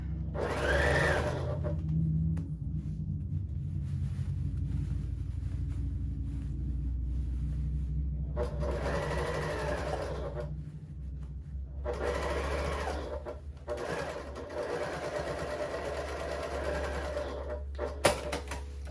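A sewing machine backstitches on a mobile device pillow, running in a steady continuous hum with several distinct bursts of faster stitching separated by brief pauses, close and fairly loud throughout.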